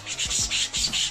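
A cricket bat's surface is rubbed in quick, close back-and-forth strokes to lift marks, each scrubbing pass a short gritty swish in an uneven rhythm with brief pauses between, loud and alone.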